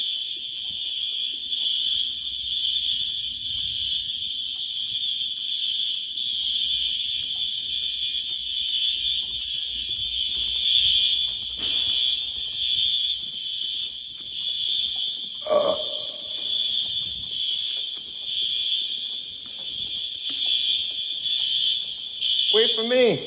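School fire alarm sounding during a fire drill, a loud continuous high-pitched electronic tone that holds steady throughout, with people talking underneath and a few brief other noises.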